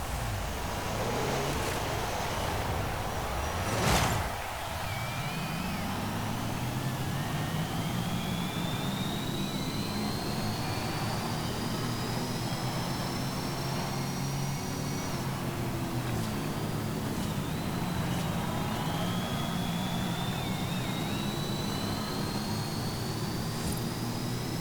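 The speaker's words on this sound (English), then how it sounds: "let's first listen to the car for a little bit, because it does make some noise despite being an electric car" A 2022 Ford F-150 Lightning Platinum electric pickup driving in the Forza Horizon 5 racing game, with a continuous loud whine and road rumble whose rising and falling tones shift with speed, plus a brief thump early on.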